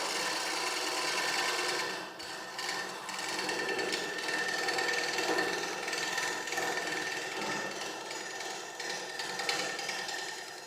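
Woodturning chisel working the face of a shallow wooden platter on a lathe, giving a continuous close scraping, chattering hiss with brief breaks and uneven bumps as the edge meets and leaves the wood.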